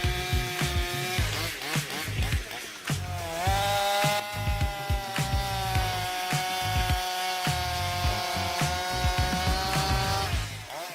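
A 94 cc chainsaw fells a tree, its engine screaming at high revs with a steady, buzzing drone that dips and surges as the chain bites into the wood, loud and close.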